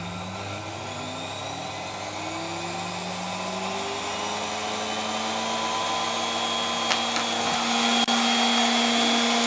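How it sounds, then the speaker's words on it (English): A vacuum cleaner motor runs steadily, its whine rising in pitch as it spins up, loud and close with no talking. "Hit the vacuum cleaner, start to go."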